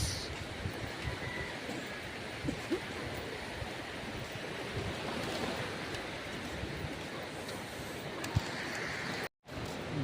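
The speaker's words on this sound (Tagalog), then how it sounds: "Ganda ng dagat." Sea waves wash steadily onto the shore in a continuous broadband roar, mixed with wind buffeting the microphone. No one speaks, and there is one brief dropout near the end.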